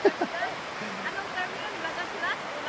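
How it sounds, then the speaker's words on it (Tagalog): Steady rushing of a river in Pugo fills the scene, a constant broad wash with faint voices murmuring in the background. "Ang lakas ng lagaslas ng ilog."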